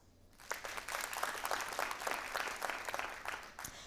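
Audience members at a festival talk event clap to cast a vote, a brief burst of scattered hands that rises quickly, holds for a few seconds and thins out.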